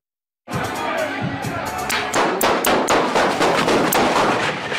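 A rapid burst of sharp, cracking gunshots fires repeatedly over about four seconds inside a nightclub lounge, loud and chaotic with a noisy background of voices.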